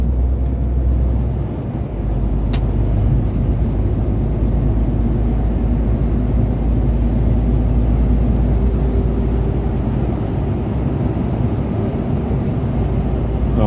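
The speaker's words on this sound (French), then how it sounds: "Allez, on va doubler." A car accelerates to overtake another vehicle on a French road near Metz, its engine and road rumble loud and steady throughout, with low wind buffeting and no talk.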